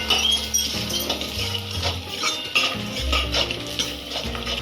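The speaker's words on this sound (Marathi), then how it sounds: "आता मीठ टाकण्याचे व्यवस्थित परत एकदा मिक्स करून घ्यायचं." A spoon stirs salt into chicken vada batter in a bowl, making continuous close scraping and wet mixing sounds with light clinks against the vessel, steady throughout.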